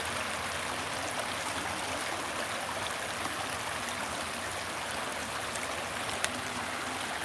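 A flowing stream of water runs steadily throughout, a broad continuous rush with no voices and no pauses.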